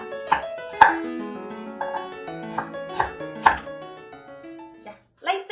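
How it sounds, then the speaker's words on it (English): A knife chops onions for a Korean soy, garlic and honey fried chicken sauce, several separate sharp strikes at an uneven pace, close and clear, with a pitched ringing tone under them. "Then we need to cut onions."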